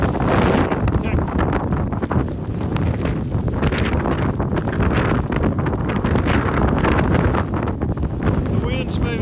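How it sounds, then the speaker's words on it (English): Sleet-storm wind on Mount Ellie roars and buffets the microphone continuously, a loud, rough, gusting rumble that never lets up. "It's a sleet storm."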